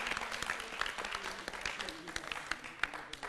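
Rhythmic hand clapping along with a Holi song, quick irregular claps at fairly low volume mixed with voices and music in the background.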